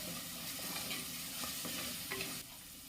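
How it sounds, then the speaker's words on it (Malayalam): Onions with salt and a couple of curry leaves sautéed in a pan for a red lentil curry, a steady sizzle with spoon scrapes and stirring clatter throughout, dropping quieter near the end. "ഒരു രണ്ട് കരിയാപ്പിലയും കൂടെ ഇട്ട് കൊടുത്ത ശേഷം നല്ലതുപോലെ ഒന്ന് വഴറ്റിയെടുക്കാം"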